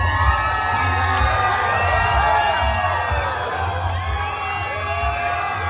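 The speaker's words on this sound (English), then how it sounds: "Of course, everybody's cheering for him." A crowd cheers and whoops loudly for Donald Trump at the Bedminster golf course, a steady roar of many voices with scattered shouts rising and falling throughout.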